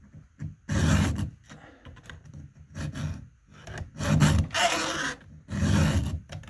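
Hand file rasping across a chainsaw chain's cutters during sharpening, several loud bursts of rhythmic scraping strokes close up, separated by short pauses, with no talking.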